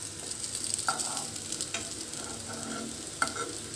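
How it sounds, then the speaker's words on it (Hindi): Flatbread sizzling steadily in hot oil in a pan, with occasional light clicks and scrapes as it is turned, close and fairly quiet, no talking. "इसे हम दोनों साइड पलट कर अच्छी तरह से सेक लेते हैं।"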